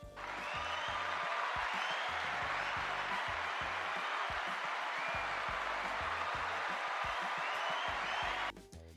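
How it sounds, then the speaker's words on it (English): Sustained applause from a crowd, dense and steady clapping for about eight seconds before it stops abruptly. "Let's give Jim a round of applause."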